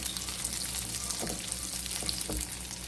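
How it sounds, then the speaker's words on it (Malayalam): Steady sizzling and crackling of almonds and raisins frying in hot oil in a pan, continuous and fairly quiet, with a faint stir or two. "ബദാം ഒന്ന് വഴണ്ട് കഴിയുമ്പോൾ ഒരു 10 ഉണക്കമുന്തിരി കൂടി ഇട്ടു"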